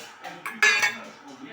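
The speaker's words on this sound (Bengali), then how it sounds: "এবার এটা একটু গাজরের সাথে সবজির সাথে আমি আর একটু ভেজে নেব।" Carrots, mixed vegetables, cashews and raisins frying in a pan, with a few clinking scrapes of a metal spatula against the pan over a low background, close and moderately loud.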